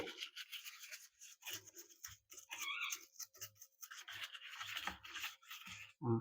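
A handheld cleaning brush scrubs a kitchen mixer jar, making soft rhythmic bristle rubs and scratchy strokes in short bursts, fairly close and quiet, with no talking.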